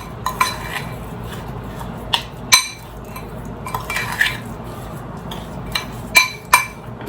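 Homemade scrub being stirred with oil in a bowl, a spoon scraping and clinking against the dish in scattered bursts, with a few sharper taps standing out.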